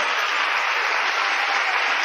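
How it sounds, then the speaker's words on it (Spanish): Steady applause from a church congregation for the King during a Spanish-language sermon, dense and even throughout, with no voices over it. "Dele un aplauso al Rey"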